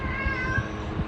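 A house cat meows close by: a short, clear, drawn-out meow with faint soft rustling underneath and no speech.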